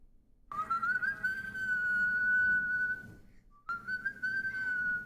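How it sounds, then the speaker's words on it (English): A clear, bright whistled melody, sustained and tuneful, pausing briefly before resuming, with no talking. "That's just like the intro whistle"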